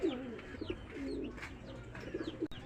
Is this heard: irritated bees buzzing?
no